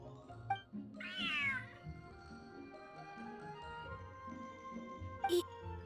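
A cat meows in Genshin Impact, one clear rising-falling meow near the start, then a short chirp toward the end, heard over steady game music with a soft background ambience.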